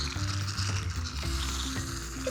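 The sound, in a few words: shaving foam being sprayed from a can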